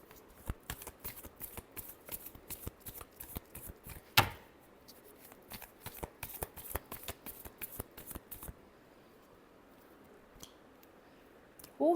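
A deck of tarot cards shuffled repeatedly, with sharp rhythmic clicks and flutters at close range, one louder snap partway through, then quieter until a brief knock at the end, with no voices.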